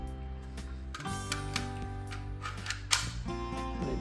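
Adapter for a Nexus Pro gun clicking into place, a few sharp close clicks and snaps over a low background hum, the loudest snap near the end.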